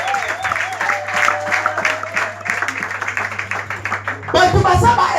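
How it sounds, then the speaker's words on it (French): A church congregation applauds the Lord during a pastor's sermon, with steady crowd clapping under a voice with a lingering musical tone, swelling louder toward the end. "Est-ce que nous pouvons acclamer le Seigneur?"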